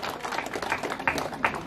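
Moderate applause from the congregation at the blessing of a Catholic parish rectory in Wowonda, steady scattered clapping with a few sharper claps standing out, mixed with faint chatter.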